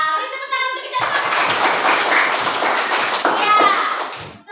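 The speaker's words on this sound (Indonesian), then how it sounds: "Iya, beri tepuk tangan untuk kita semua." Children in an elementary school classroom clap their hands together in a lively burst after a short stretch of speech, with young voices mixed into the clapping.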